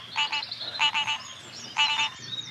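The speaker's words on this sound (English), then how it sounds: "Go on, tree frog. Go join your brothers and sisters in the Amazon." A tree frog in the Amazon gives three bursts of rapid, rattling croaks, each a quick cluster of sharp pulses, close and clear against a faint background with no talking.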